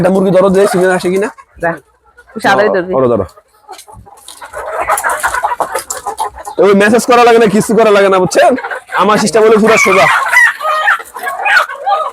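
On a poultry farm, chickens cluck and roosters crow loudly and repeatedly nearby, with people talking over them throughout.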